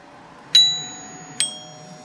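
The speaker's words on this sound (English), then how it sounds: "That's the doorbell." Nest doorbell chime on a UK installation wired with a Byron 776 chime unit, two clear metallic ding-dong strikes close by, each ringing out and decaying in a quiet room.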